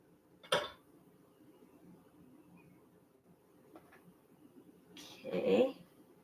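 Food placed onto a pan in a home kitchen while preparing a game day brunch, heard as two brief clattering contacts, one near the start and a louder one near the end, over quiet room tone.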